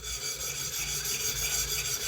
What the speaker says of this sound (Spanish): a mí me ha venido bastante práctico esta lima de diamante